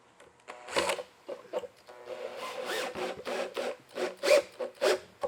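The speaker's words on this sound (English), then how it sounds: "Let's get our second screw in there." A screw being driven into a wooden planter box, with bursts of grinding, rasping drive noise and creaking wood, loud and close, in several uneven pulses.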